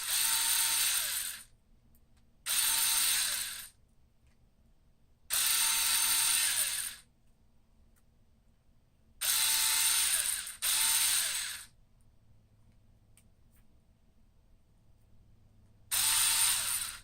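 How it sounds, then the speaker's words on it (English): Bursts of a high-pitched power drill smoothing holes in plastic headphone parts, each running a second or two with pauses between, loud and close with no talking. "we'll go back through from the other side with the drill just to sort of smooth that out"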